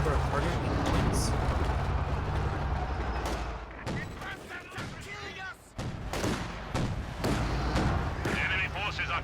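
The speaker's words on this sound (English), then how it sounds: "Another direct hit by the KV-2." A KV-2 tank's artillery hits land amid a Company of Heroes 2 battle, with heavy booming impacts and scattered gunfire. A voice talks throughout.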